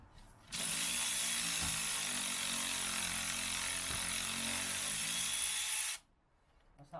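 A power tool spins a 14mm nut off a brake pipe bracket on a Peugeot 107 during a suspension job, one steady, loud, close whir of about five seconds that stops abruptly.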